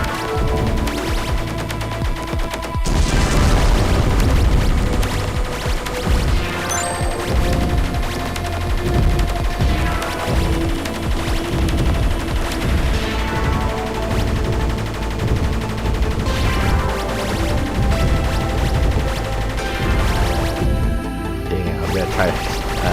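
Shooting and explosions in the shoot-'em-up game Ghost Blade HD form a dense, loud, unbroken barrage of rapid fire with booming blasts woven through it.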